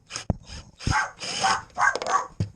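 Dogs bark inside a Forest River RV during battery maintenance, giving several sharp, nearby barks with short gaps between them, heard alone without talking.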